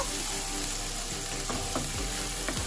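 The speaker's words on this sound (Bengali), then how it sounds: "2টো পেঁয়াজ আর 5টা কাঁচা লঙ্কা পেস্ট করে নিয়েছি, সেটা আমি তেলের মধ্যে দিয়ে দিচ্ছি। পেঁয়াজটা একটু কষিয়ে নেব।" Onion and green chilli paste frying in hot oil, a dense continuous sizzle with occasional spoon scrapes and knocks against the pan, close and fairly loud, no one talking.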